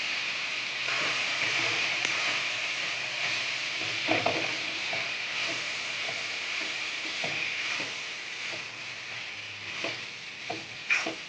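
Sambar powder is being stirred into a bitter gourd curry in a pan, a soft continuous sizzle broken by scraping and clinking of a spoon against the pan.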